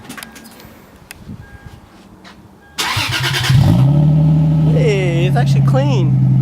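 A Lexus IS300 fitted with a new DNA exhaust cranks and fires at about three seconds, then settles into a loud, steady, deep idle that holds to the end while voices talk over it.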